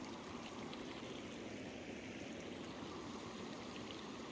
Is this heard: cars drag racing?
no